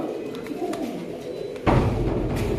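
A breeding pair of black pigeons coo softly in low, rolling calls, with a dull thump partway through and a fuller background hum after it.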